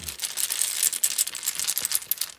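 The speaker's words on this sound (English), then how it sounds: "I'll just shuffle them up in here, and whatever sticks in my fingers is the right rune." Small rune stones shuffled together inside a bag, giving a continuous dry clatter of quick, close clicks and rattles for a couple of seconds.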